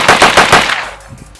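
Rapid burst of rifle fire during a trigger speed test comparing an ALG AKT and a Tapco G2 trigger, with about four to five quick, loud, close shots packed into under a second, then a fading echo.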